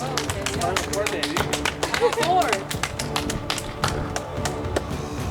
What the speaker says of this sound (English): Hillary, oh, all right, let's clap.